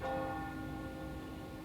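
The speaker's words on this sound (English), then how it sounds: "That's the evening bell." An evening church bell rings in a steady, sustained toll, its long humming overtones lingering and slowly fading, with no voices over it.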